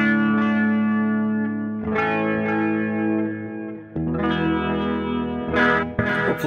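Electric guitar played through a DIY build of a BOSS DC-2 Dimension chorus pedal, first mode with all switches down, giving sustained chords with a wide, shimmering chorus and light reverb, loud and steady with no talking.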